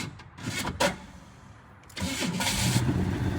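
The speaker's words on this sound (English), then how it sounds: "I have not started this car in probably months." A car that has sat unused for months cranks with a few grinding starter bursts, pauses, then catches and fires into a running engine, recorded close in a building.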